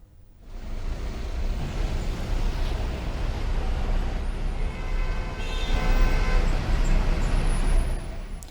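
Trains run out of Hyderabad during the Sankranti festival rush, a continuous low rumble and rolling rail noise that swells slightly toward the end, with no talking.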